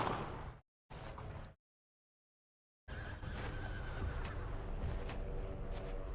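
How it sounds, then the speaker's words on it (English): Horses neighing and hooves clopping on a road amid a busy, noisy World War II video game scene (Brothers in Arms: Earned in Blood), broken by a brief dropout and a longer stretch of silence before the sound resumes. "Sir, I hear horses coming down the road."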